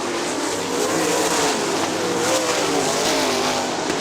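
Sprint cars race at Kokomo Speedway, a dirt oval, with a continuous roaring engine drone from several cars held at full throttle, loud and steady with no talking.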